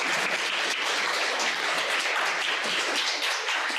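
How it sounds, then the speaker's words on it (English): Sustained round of audience applause at a transgender rights event, many hands clapping in a dense, even wash that holds at full level throughout without talk. "Another round of applause, please."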